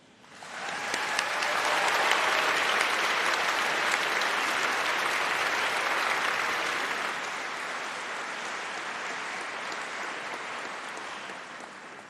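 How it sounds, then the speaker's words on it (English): A large crowd at a university graduation ceremony applauds steadily for several seconds, a dense wash of clapping that slowly fades toward the end. "a well-deserved round of applause for all of the staff"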